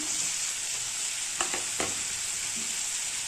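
Onion, tomato and grated coconut sautéing in a pan for an oil-based brinjal kuzhambu: a steady, fairly quiet frying hiss with a few brief stirring scrapes near the middle, no talking.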